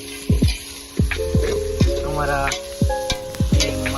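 Spices are tempered in hot oil for Maggi noodles cooked outdoors in a farm field. A utensil strikes the pan in repeated sharp clanks over a steady sizzle, with a single brief spoken word.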